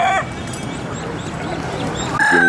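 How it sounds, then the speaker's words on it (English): Poultry calls at an outdoor animal market in Otavalo, with a rooster's crow or clucks standing out briefly at the start and again near the end against a steady crowd murmur and background chatter. "Pretty rooster there."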